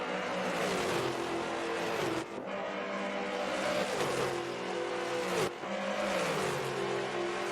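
Street stock race cars roar around the track at Indianapolis, engines droning loud and close with repeated pitch sweeps as cars rev, shift and pass in waves.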